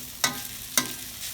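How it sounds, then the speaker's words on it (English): Rice noodles frying in a pan are stirred and flipped, giving two sharp scraping turns over a low steady sizzle, with no talking. "when you want to turn again, like kind of stirring, use this corner again and doing like that"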